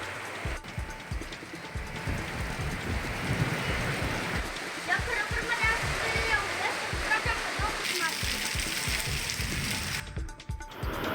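Heavy unseasonal rain pours steadily over Kurundwad and Narsobawadi in Kolhapur's Shirol taluka, a dense, continuous wash of water with speech running over it throughout.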